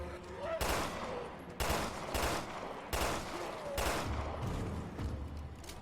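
Gunfire in Resident Evil Revelations 2: several loud bursts of shots in quick succession, roughly one per second, with brief gaps and a low hum between them.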